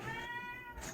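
A house cat lets out a single short meow, close and fairly quiet, with no one talking over it.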